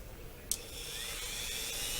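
A rotary tool fitted with a grinder cutter bit cuts into plastic model kit parts for a Monogram Battlestar Galactica Cylon Basestar, a sharp onset followed by a steady, close, high-pitched whine with no talking.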